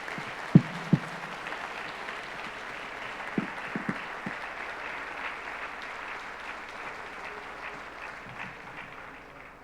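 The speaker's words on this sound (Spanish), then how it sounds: "Un aplauso." Audience applause at a national education conference, a dense, even patter of many hands clapping that carries on steadily for several seconds, with a few sharper claps and thumps near the start.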